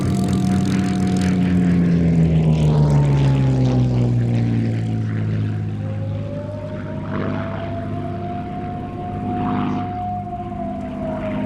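WWII Spitfire fighter planes with propeller engines drone overhead, a loud sustained roar whose pitch slides and shifts as the aircraft pass, rising and falling over several seconds with no voices.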